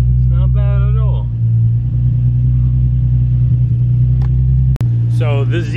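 A Nissan Z engine drones in a steady, loud low rumble as the car drives, with people talking briefly over it at the start and end.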